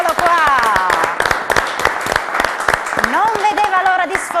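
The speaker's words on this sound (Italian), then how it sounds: "pro loco di Maiano, capitanata da Daniele, fatemi un applauso." Studio audience applauds the pro loco teams on an Italian quiz show. The clapping is loud and steady throughout, with a host talking over it and cheering voices mixed in.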